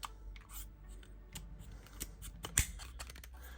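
Extended selfie stick with quarter-inch mounts at top and bottom, its sections locking in and out as a series of short close clicks and snaps, one sharper snap standing out near the end.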